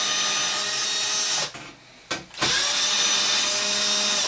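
A screw gun set to its lowest clutch setting backs Torx screws out of an Xbox 360 casing, whirring loudly and steadily with two short pauses midway before spinning up again.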